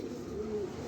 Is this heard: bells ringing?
no